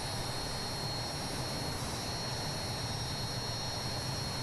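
Hawk T1 jet engines running in Microsoft Flight Simulator make a steady, loud, unbroken roar with a thin high whine held on top, continuous throughout with no voices.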